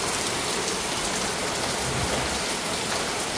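Rain pours steadily and loud, a dense unbroken hiss of drops on surfaces that holds constant from start to finish with no voices.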